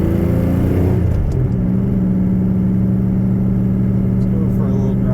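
Pontiac Fiero GT engine running steadily with a FiTech ECM upgrade, a loud, close, continuous low mid-range drone that settles into an even idle after a brief shift in tone.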